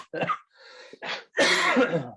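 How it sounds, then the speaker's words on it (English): Several harsh coughs from one person close by, in separate bursts with short pauses, ending in a longer, heavier fit of coughing. "So if I do cough, I apologise."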